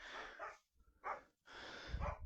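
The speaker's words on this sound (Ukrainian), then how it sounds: "Собака опять сосиска гавкає." A dachshund barks outdoors on a winter day in short, sharp bursts, three separate barks with brief gaps between them, fairly close and moderately loud.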